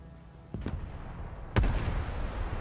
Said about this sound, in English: Smoke grenades.